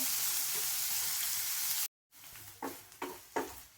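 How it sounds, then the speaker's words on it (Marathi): Onion frying in a pan for paneer bhurji, cooked until pink, with a steady loud sizzle, a brief break, then quieter sizzling broken by several distinct stirring scrapes. "कांदा मिक्स करून छान गुलाबी होईपर्यंत भाजायचा."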